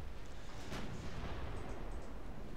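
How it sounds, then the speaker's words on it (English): A torpedo strikes a warship's bow in a naval battle game, giving a dense, rumbling boom with a sharp burst near the start that stays loud and roaring throughout. "another torpedo hit to her bow"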